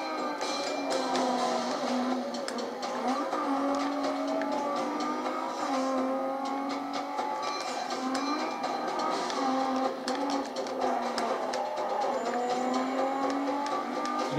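A high-revving Lamborghini engine in Need for Speed: Carbon on Nintendo GameCube roars continuously, its pitch rising and falling with gear changes, loud and steady throughout.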